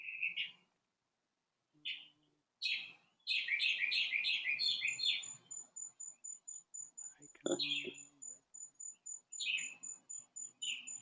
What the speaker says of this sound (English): Who's got the bird?